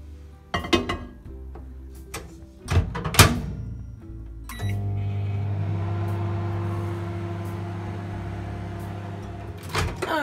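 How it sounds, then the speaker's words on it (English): A microwave oven heats carrots and potatoes, giving a steady low hum that runs from about the middle of the clip to its end, after a few clinks and a door thud earlier on. "put them in the microwave for about 3 minutes"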